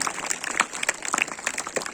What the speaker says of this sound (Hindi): तालियां बजती रहे बच्चे।